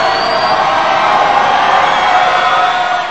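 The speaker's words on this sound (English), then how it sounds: "Crowd trying to make some noise." A basketball crowd at a college game cheers and shouts in a broad, sustained roar that fades slightly at the end.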